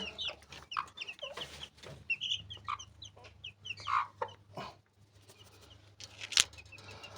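A mother hen clucks softly inside a homemade brooder while high chick peeps come and go, all quiet over a low steady hum.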